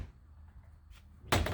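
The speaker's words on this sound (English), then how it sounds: "The doors don't shut." Newly built wooden shed doors pushed toward closed but failing to shut, a faint knock early on, then a loud hollow thud of wood banging against the misaligned frame near the end.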